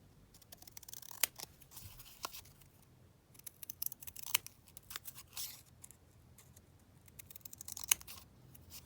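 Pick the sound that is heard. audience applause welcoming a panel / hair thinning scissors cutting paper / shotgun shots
hair thinning scissors cutting paper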